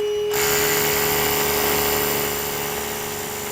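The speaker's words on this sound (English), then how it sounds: "I'm now going to drill a 3/4 inch diameter to a depth of 2 inches." Power drill boring a 3/4 inch hole into a concrete slab, a steady loud high whine with gritty broadband grinding, starting abruptly and running continuously.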